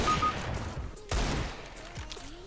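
Desert Eagle pistol shots in the game CS:GO, a sharp loud report standing out from continuous gunfire and battle noise, with a second fainter crack later on.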